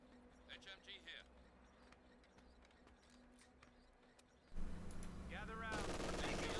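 Bursts of MG42 machine-gun fire in the strategy game Company of Heroes 2 rattle quietly under steady commentary, then louder battle noise swells near the end.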